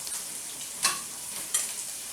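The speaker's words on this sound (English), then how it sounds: "That's boiling pretty good there for a second." A zucchini, sausage and rice casserole sizzles and bubbles in a pot on high heat with a steady hiss, broken by two brief louder stirring scrapes, no voices.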